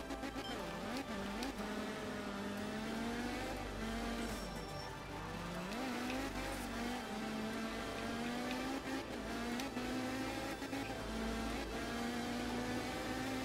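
A Group S rally car engine in art of rally snarls and revs continuously, pitch rising and dipping through gear changes, loud and steady throughout.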